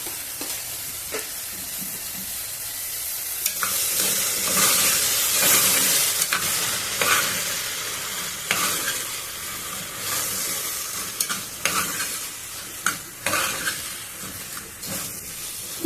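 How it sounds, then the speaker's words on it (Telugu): Sliced okra fries in a pan with a little turmeric, sizzling and hissing steadily while a spoon stirs and scrapes through it in irregular strokes, close and fairly loud with no talking. "కొంచెము బంకంతా పోయేంత వరకు వేయించుకున్నాం ఇట్లనే."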